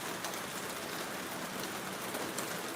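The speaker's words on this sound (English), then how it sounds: "when it's raining like this" Steady, dense rain pours down in a provincial area of the Philippines, a constant even hiss with no breaks and no voices.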